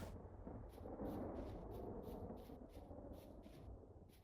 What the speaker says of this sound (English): Big lightning storm moving in.